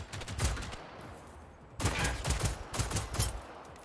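Gunfire from an armed robot in Generation Zero, heard as several loud bursts of rapid automatic shots, one burst early on, then a quieter gap, then a cluster of repeated volleys close by.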